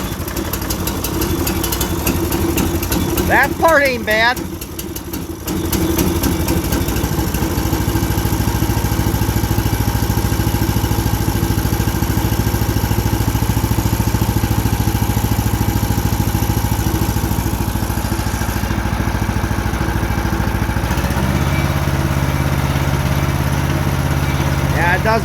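Small outboard boat motor on a Frontier OS27 repower, choked and cranked for its first start, catches and settles into a steady, loud idle with a low drone and shifting pitch; someone talks briefly near the start.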